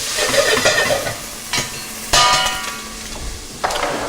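Onions sizzle in a hot pan as they caramelize, with steady frying hiss and occasional louder stirring scrapes and knocks against the pan, no voice present.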